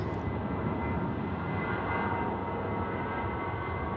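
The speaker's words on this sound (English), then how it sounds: "Here we go, Jetstar 613 going to Avalon now, departing with Aviation 4 on board." Jetstar airliner departing Sydney Airport at night, a steady, continuous engine rumble and roar at moderate distance, holding level throughout with no voices.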